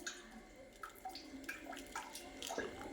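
Jaggery ginger tea poured through a strainer, a faint, close trickle with small gurgles and drips lasting a few seconds, with no talk over it.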